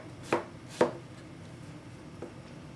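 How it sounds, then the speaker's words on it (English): Cabbage julienned with a very sharp knife on a board: two crisp, close chops in quick succession, then a fainter third cut after a pause. "Cabbage is really easy to julienne because it's already like, it's already layers."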